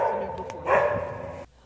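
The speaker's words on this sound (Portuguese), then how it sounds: "Um latido de socorro." A dog trapped in a water pipe gives a single drawn-out, whining bark, tonal and plaintive, then falls abruptly quiet.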